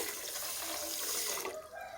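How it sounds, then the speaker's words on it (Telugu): Water pours steadily from a glass into sugar in a pan for gulab jamun syrup, a continuous close splashing stream that tapers off near the end. "నీళ్ళు పోస్తానండి"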